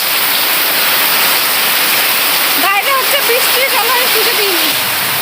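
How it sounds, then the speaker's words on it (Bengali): Heavy rainwater pours off a house roof and spills past a rooftop drainage system in a steady, loud, continuous rush. A voice speaks over it partway through. "জল জমলেই না এই যে পাশ দিয়ে পড়ে যাচ্ছে দেখেছো"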